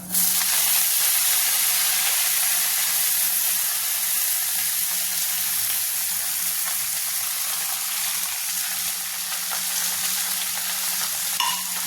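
Spinach leaves go into a hot pan of chicken for a Kerala-style cheera thoran, setting off a loud, steady frying sizzle with stirring scrapes. The hiss stays close and continuous throughout, with no talking.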